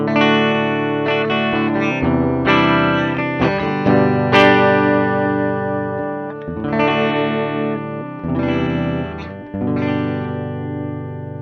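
An electric guitar plays strummed chords and ringing notes through a Mooer GE200's Fender Twin Reverb emulation, with a clean, bright amplified tone, loud and alone with no voices.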